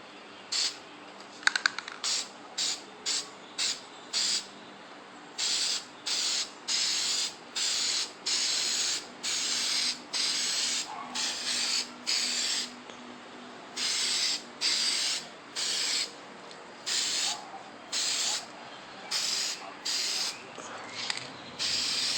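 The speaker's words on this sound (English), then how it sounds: "right now we will be spraying the last coat of the actual paint itself" Repeated short bursts of aerosol spray paint hissing onto an engine valve cover, each lasting about a second with brief pauses between, steady and fairly close.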